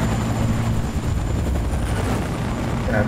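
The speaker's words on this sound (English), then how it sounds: "They're in the helicopter." Helicopter in the video game Battlefield Bad Company 2, a steady droning rotor and engine roar that stays loud and continuous throughout, with no talk over it.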